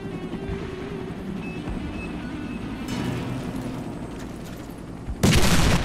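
A loud C4 charge explosion booms near the end of the clip in the game Warface, following a rumbling stretch of game ambience and a softer burst partway through.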